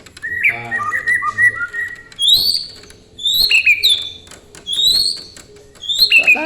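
A canary sings in repeated bright whistled phrases and trills, with short bursts separated by brief pauses, fairly close and clear against a low background rumble.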